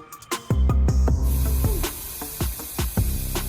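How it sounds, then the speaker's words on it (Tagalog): Koby protectant spray being sprayed onto plastic motorcycle fairings, a series of short hissing aerosol bursts in quick, uneven succession, close and fairly loud. "pwede na natin ito spray sa surface ng mga fairings ng mga motor natin."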